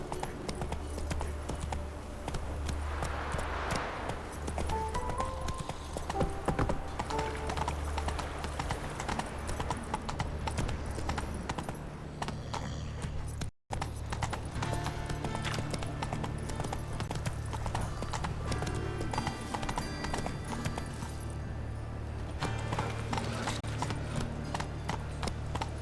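A horse gallops in The Witcher 3, its hooves clip-clopping in a steady rapid rhythm throughout over continuous game ambience, with a brief dropout midway.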